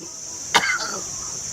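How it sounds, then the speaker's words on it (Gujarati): A single sharp cough bursts out close by, brief and loud against a steady high hiss, followed by a softer trailing throat sound. "તમે ખાંસી આટલી બધી?"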